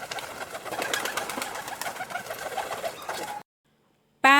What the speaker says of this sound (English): Pigeon. This is pigeon.